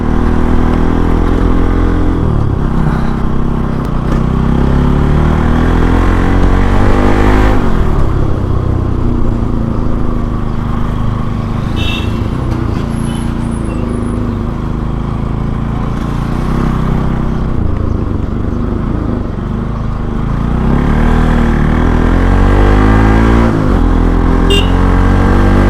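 A Bajaj Pulsar NS 200 motorcycle engine revs hard while riding, loud and close, with rising and falling throttle sweeps, gear changes and constant wind and road rumble, and no talk.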